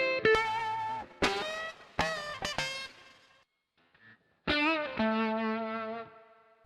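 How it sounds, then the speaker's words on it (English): Distorted electric guitar chords run through the IK Multimedia MixBox distortion effect, several loud gritty strummed hits with a short gap before a final ringing chord. "We'll do the distortion."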